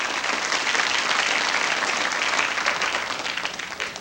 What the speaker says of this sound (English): Let's have a round of applause, everybody, for all these great problem solvers and explorers.